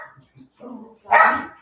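A dog gives a single loud, close bark at a package delivered to the door, preceded by a few faint, brief sounds.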